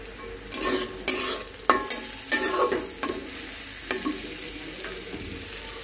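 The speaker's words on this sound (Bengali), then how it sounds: "এখন পাঙ্কাশ মাছগুলো ভাজা হচ্ছে, মাছগুলো পেঁয়াজ দিয়ে বোনা করব।" Pangas fish pieces frying in a pan with onions, a steady close sizzle broken by repeated scraping and stirring strokes at an uneven rhythm, with no talking.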